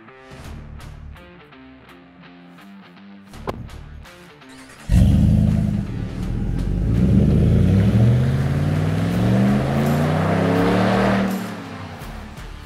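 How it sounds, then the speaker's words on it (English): A Ram 1500 pickup fitted with a new exhaust system drives off, its engine rising into a loud, steady drone with climbing revs after a quieter idle at the start, then easing back near the end. "Now let's take our truck for a drive and see how we did."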